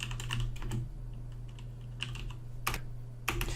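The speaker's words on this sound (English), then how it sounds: "this new keyboard makes you type like a goddamn idiot" Keys clatter on a computer keyboard in quick bursts, pauses between flurries and a couple of sharper keystrokes near the end, over a low steady hum.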